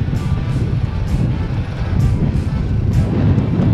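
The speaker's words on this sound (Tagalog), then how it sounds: "Lakas pa ng hangin, grabe." Strong wind during a ride in Pangasinan buffets the microphone with a heavy, rumbling roar that gusts and swells continuously, close and loud.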